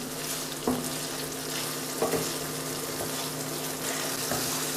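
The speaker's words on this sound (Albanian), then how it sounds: "Do edhe pak të skuqet speci." Sliced red pepper frying in a pan, a steady dense sizzle with occasional soft scraping stirs of a spoon, close and even throughout with no talking.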